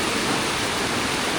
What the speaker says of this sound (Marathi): एवढा दिवसभर पाऊस नव्हता, मात्र आता संध्याकाळी चालू झालेला दिसतोय. पाण्याचा प्रवाह आता बऱ्यापैकी वाढला आहे.